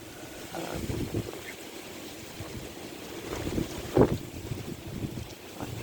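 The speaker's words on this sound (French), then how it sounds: "Quand même pas mal de vent là." Strong wind buffets the microphone outdoors by a backyard poultry yard, with uneven low rumbling gusts and a sharper thump near the end.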